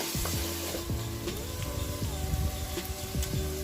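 Prawns fry in a pan for a Kerala-style ghee roast as chopped tomatoes go in, giving a close, steady sizzle broken by irregular scrapes and stirring clatter.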